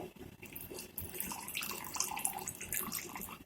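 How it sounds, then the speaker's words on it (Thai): Water splashes and pours into a pan of thick chicken spaghetti sauce, a steady bubbling, gurgling wash of liquid close by with no talk. "ข้นแห้งเติมน้ำลงไปด้วย"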